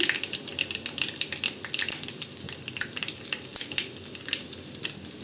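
Asafoetida sizzling as it hits hot oil on low heat for a citron pickle, a close, busy crackling and spitting hiss with rapid pops throughout and no talking.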